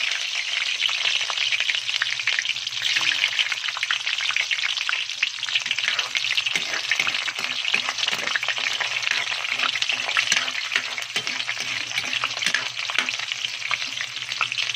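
Onions fry in oil in a pan with a steady, close, continuous sizzle and crackle that holds even and loud throughout, with no voices.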